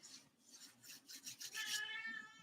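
A cat meows near the microphone during a home tarot reading, a rising, drawn-out cry with rubbing and rustling noises leading into it, no talking.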